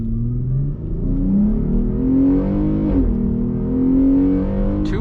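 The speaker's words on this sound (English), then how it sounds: "So now we just let off the gas and floor it" A Jeep Grand Cherokee in sport mode launches at full throttle, its engine note climbing steadily through rising revs with a brief dip at a gear change, loud and close from inside the cabin.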